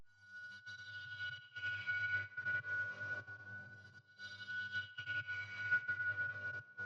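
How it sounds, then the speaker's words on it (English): Glass Orbit, an ambient synth pad from Xenology, holds a single note that rings out every two bars, quiet and airy, with a sustained tone and soft shimmering texture swelling and fading in waves. "Next I added this pad out of Xenology."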